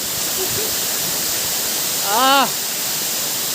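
A steady, hissing rush of falling water fills the clip without pause; a short voice-like sound briefly rises over it.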